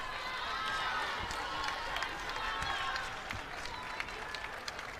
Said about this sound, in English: a nice round of applause for the Bronx fans